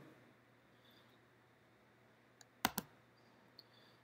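A computer mouse gives a quick double click, two sharp close ticks near the middle, with a faint tap just before and another a moment later over quiet room hum.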